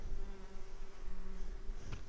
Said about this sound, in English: The bees seem really happy.